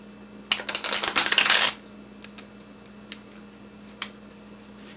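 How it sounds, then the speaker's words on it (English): A deck of tarot cards is shuffled in one quick riffle lasting about a second, crisp and close, followed by a few faint isolated taps in a quiet room. "The cards are a little bit hard to shuffle for you, Pisces"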